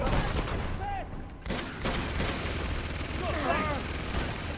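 Enemies firing at the player in Uncharted 2: Among Thieves, dense overlapping gunshots and rattling bursts throughout a game battle, with speech mixed in.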